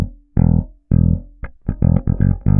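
Bass guitar riff played in the natural minor rather than Dorian, loud and close with distinct plucked notes in a choppy, syncopated funk rhythm, heard alone.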